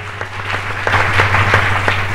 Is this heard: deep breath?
no